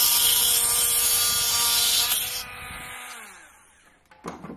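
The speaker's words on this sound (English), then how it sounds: "you have to get really close to your base plate and just drill." A power drill whines loudly and steadily, drilling into a plastic base plate, then winds down and stops, followed by a few faint clicks and scrapes.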